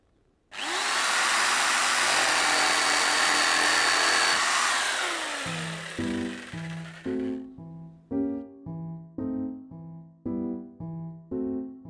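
Power screwdriver driving screws into pallet wood for a chicken coop, starting with a long loud whir that fades, followed by a rhythmic run of short repeated buzzing bursts, one per screw.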